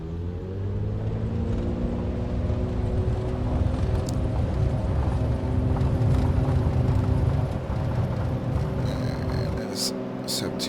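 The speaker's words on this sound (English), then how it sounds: "I want you to pay attention to the beautiful, beautiful sounds of this aircraft as we spool up the engine here." Simulated piston engine of a Piper Arrow III in the X-Plane 11 flight simulator, a steady harmonic drone spooling up for takeoff, sustained and fairly loud, with someone talking over it.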